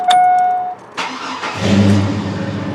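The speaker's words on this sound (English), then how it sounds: "start the engine and check" A car with a random cylinder misfire starts up in a repair shop: a short starter crank, then the engine catches and settles into a rough idle, loud and close with no talking.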